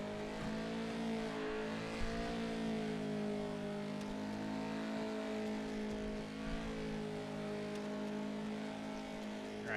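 Race cars in a sim racing game rev hard while doing burnouts during qualifying, a continuous loud layered engine drone with sustained harmonics and faint tire noise underneath.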